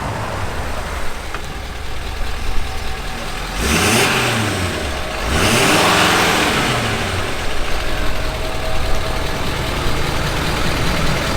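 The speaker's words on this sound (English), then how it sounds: "I see this diesel coming up" A Ford Power Stroke diesel truck approaches and passes, its engine loud and close, with a rising and falling roar against steady traffic noise.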